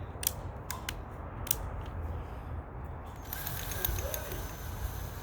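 A hand-tightened drill chuck gripping a quarter-inch bit gives a few sharp ratcheting clicks, then a quicker run of fine mechanical clicking and whirring, all close by and fairly quiet.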